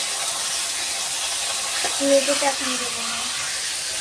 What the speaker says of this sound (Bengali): এইবার আমরা এর মধ্যে চিকেনটা দিয়ে দিচ্ছি। এবার এটা দিয়ে আমরা ভালো করে নেড়ে নেব।